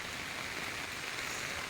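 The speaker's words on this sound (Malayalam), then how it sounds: "രാവിലെ നല്ല മഴയാണ്." Heavy morning rain in Kerala falls in a dense, even, continuous patter, a steady wash of drops with no voices or other sounds.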